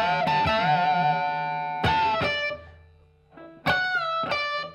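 A distorted electric guitar plays phrases from a riff, with ringing sustained notes, a bend and sharp attacks separated by a brief near-silent gap, close and loud, no talk.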